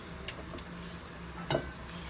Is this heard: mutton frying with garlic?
yes